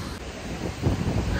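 Wind gusting at a beach on Boracay, buffeting the microphone with a low rumbling roar that swells louder toward the end, no talk over it.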